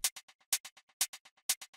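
Percussion hit with delay in the second part of a melodic techno drop: a quiet, crisp repeating pattern of four bright hits, each followed by fading echoes, steady and alone.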